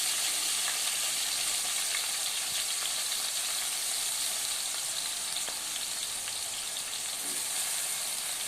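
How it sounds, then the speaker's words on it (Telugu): Onion paste and green chillies fry in a pan for a Godavari pulasa fish curry, a steady close sizzle that hisses on without pause or talk. "ఆనియన్ పేస్ట్ని కూడా యాడ్ చేసుకుని బాగా ఫ్రై చేసుకోవాలి."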